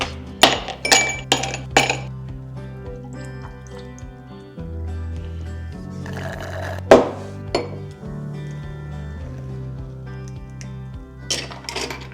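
Ice cubes clink into a glass in a quiet kitchen early in the morning, with a cluster of sharp chinks at the start, one bright clink partway through and a few more at the end, close and fairly loud.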